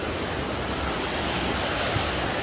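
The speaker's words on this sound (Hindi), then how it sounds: "अब पानी का शोर सुन लीजिएगा" Steady, loud rushing stream water roars without a break in a Pakistani village, a dense broadband wash close by, with no voices over it.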